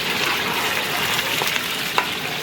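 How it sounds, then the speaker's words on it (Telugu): Brinjal (eggplant) frying in oil in a large pot while a big batch of food is cooked for about a hundred people. A steady, moderate sizzle carries on throughout, with a few faint stirring clicks. "వంకాయ కూడా ఇట్లా ఫ్రై చేసుకుంటాం."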